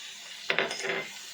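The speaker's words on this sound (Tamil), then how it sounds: "அதையும் போட்டு நல்லா கிளறி விடணும்." Ginger is tipped into a cooking pan for fish pickle and stirred, two quick metallic taps followed by a short scraping rub of a utensil against the pan, close and fairly soft, with no talking.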